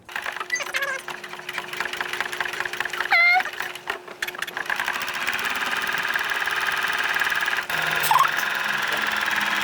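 A sewing machine runs a steady top stitch along the hem of a sheer button-down crop top, its motor humming continuously and fairly loud for nearly ten seconds, with a brief pause and a few light clicks partway through.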